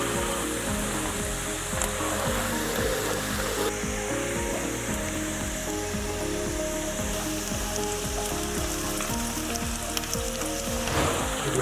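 Chopped onion for stuffed crucian carp sizzles in a frying pan, a loud, continuous hiss with dense crackle that runs unbroken throughout.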